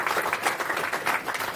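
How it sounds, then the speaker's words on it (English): A conference audience claps steadily and fairly loudly for the next speaker at a talk on Rust parsing and automatic binding generation, a dense even applause with no voices over it. "Please, big round of applause."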